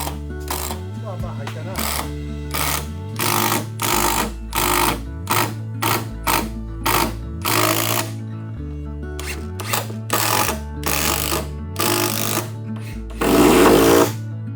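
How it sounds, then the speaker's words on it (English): Long screws being driven into an ash wood bench by a power driver, which whirs in a steady series of short bursts, each rising in pitch, with brief pauses between them and a louder final run. "so I screw them carefully"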